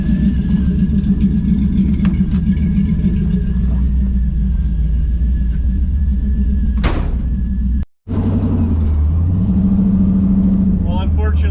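An LS-swapped 1957 Chevy rumbles loudly on a dark, slippery first drive, its engine droning steadily up close with a brief dropout and a renewed rev near the end.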